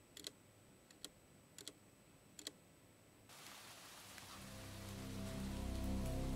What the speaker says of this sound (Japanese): 歩いているうちに本当に空から雨粒が落ちてきた